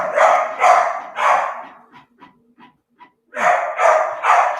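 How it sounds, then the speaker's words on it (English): A dog indoors barks at a printer in loud, close bursts of three, pauses while faint mechanical clicks and whines come from the machine, then barks three more times. "Now my dog hates this printer. So prepare to hear him going off."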